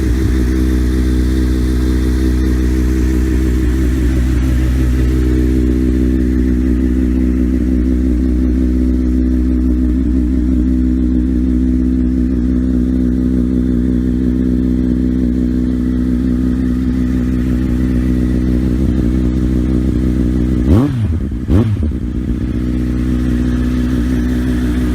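A Yamaha XJR 1300 motorcycle engine running close and loud, a steady deep idle-like throb with a rich low rumble, then a couple of quick sharp throttle blips near the end.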